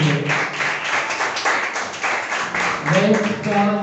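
Clapping from an audience at a FundaUC interactive event, a busy patter of hands that continues with voices rising over it toward the end.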